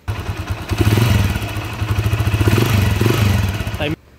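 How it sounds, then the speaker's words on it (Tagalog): A motorcycle engine runs close by with a steady rhythmic knocking and clatter from a noisy connecting rod inside the motor, then cuts off abruptly near the end. "Tapos ito yung maingay connecting rod."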